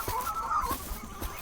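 Chickens in the farming video game Dinkum give a short burst of clucks and soft bawks at moderate volume, a few quick calls with no talk.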